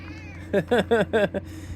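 A small friendly cat gives three loud, drawn-out meows in quick succession at close range over a low steady hum, with no talking over it.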